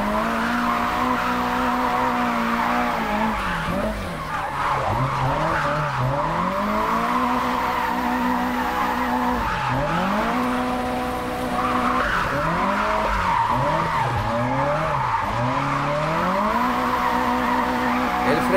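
A car drifts in the video game Japanese Drift Master, with a continuous engine drone that swoops up and down in pitch over long stretches of tire squeal, loud and close throughout.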